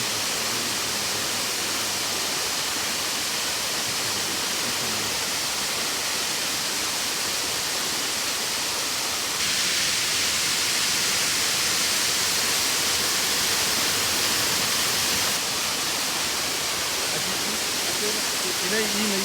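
Kirinyaga waterfall on the Thiba River, seen from a river island, roars as a loud, constant wash of falling water that grows slightly louder partway through, with no clear talk over it.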